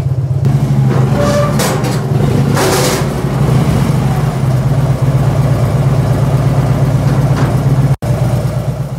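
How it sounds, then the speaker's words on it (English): A 2012 Harley-Davidson Road King motorcycle's engine rumbles loud and close as it idles and eases onto a lift ramp, a steady low throb with slight rises in revs. "right now we're just going to go ahead and pull a 2012 Road King onto the ramp"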